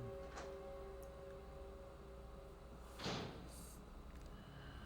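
A door in Resident Evil 2 opens with a single soft thud and slide about three seconds in, faint against a low ambient hum, after a small click earlier.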